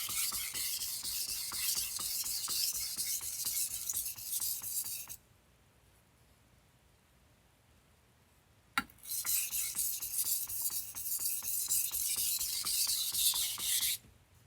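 A Japanese knife is drawn across a sharpening stone in rapid, raspy strokes. The strokes run in two long bursts split by a few seconds of near silence and a single sharp tap, and they sound close and fairly quiet.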